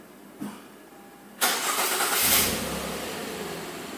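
A 2013 Acura RDX 3.5 engine being started after a timing belt and water pump replacement: a click, then a loud cranking catch that settles into a steady idle, close and without talk.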